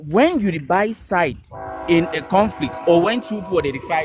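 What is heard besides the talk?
passing train with horn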